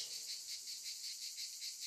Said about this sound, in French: Qu'est-ce qui fait, maman? Ce sont des cigales